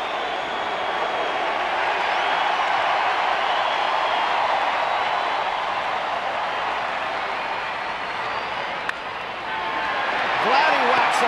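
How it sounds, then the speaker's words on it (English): A baseball stadium crowd at an Angels game chanting a player's name for a curtain call, a dense, steady roar of many voices with cheering swelling near the end. "the crowd chanting Torrey's name"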